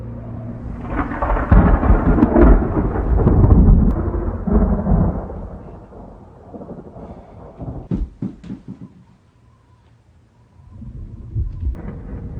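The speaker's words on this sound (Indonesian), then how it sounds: "Malam harinya yang hujan lebat dan sangat romantis" Heavy rain and rolling thunder at night in a film, a loud deep rumble swelling and fading, then sharp cracks and quieter rain before the storm builds again.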